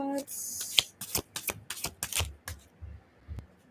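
Tarot cards are shuffled and drawn close up in a run of quick, crisp riffles and slaps, with a brief voice at the start.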